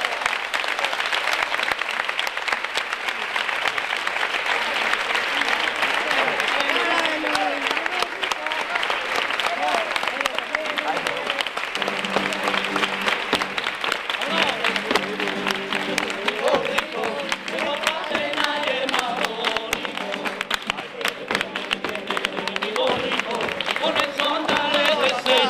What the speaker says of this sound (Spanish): Y un aplauso para ustedes.